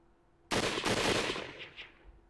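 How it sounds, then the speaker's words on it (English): Gunfire from the Hakuoki video game breaks in suddenly after a quiet start, a loud burst of rapid shots with a rolling, echoing tail that fades over a couple of seconds, with no talk. "blast of gunfire resounded in the distance."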